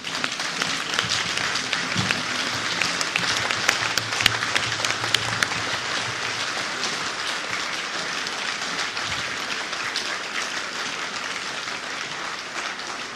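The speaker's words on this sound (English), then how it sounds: "Can we be upstanding to give a good honor through clap offering to our God?" A standing congregation at a church induction ceremony for new members claps together in a steady, dense wash of applause that carries on throughout, loud and close with no talk over it.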